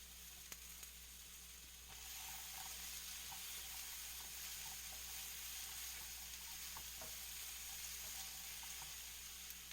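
Peppers and onions fry quietly in a pan, a soft steady sizzle with a few light clicks of stirring, low and fairly distant, with no talking.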